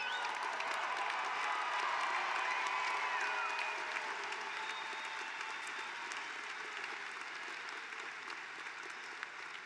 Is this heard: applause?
yes